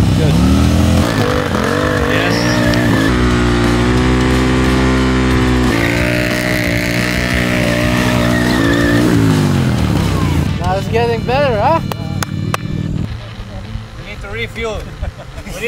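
A road motorcycle drifting with its rear tire slipping under throttle: a loud, near engine holds a steady drone, rises and falls in pitch, then fades as someone talks over it.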